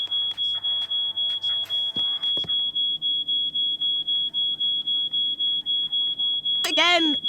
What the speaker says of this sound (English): Okay, can we just switch off that alarm?